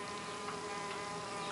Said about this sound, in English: here we go, we've got bees finishing off the holes there